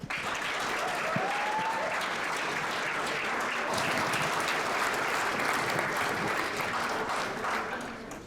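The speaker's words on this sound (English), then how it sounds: "So please join me in giving her a round of applause as we get started." An audience gives sustained applause for a speaker at a Title IX trailblazers event, a dense and steady roar of many hands clapping that holds evenly throughout, with a faint voice or two early on.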